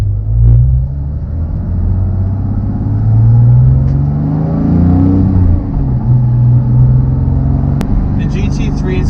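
A 2018 Porsche 911 991.2 GT3 with a six-speed manual revs and pulls, its engine note rising and falling close by over a steady rumble, with someone talking in the cabin.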